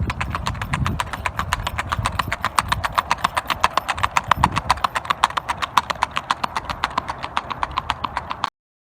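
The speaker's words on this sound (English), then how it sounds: "The footfall of the front legs will determine how solid your horse is gaited." Gaited horse hooves clop on hard ground in a fast, even, regular rhythm, steady and close, before stopping abruptly.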